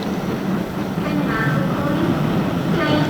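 The 9:17 Sheffield train departs York station with a broad, steady rumble of rolling rail cars and a faint squeal, loud and continuous, as someone talks over it.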